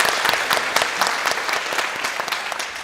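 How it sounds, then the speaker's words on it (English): An audience at a college talk applauds, dense clapping from many hands sustained evenly and fairly loud, with no speech over it. "another applause for him, please."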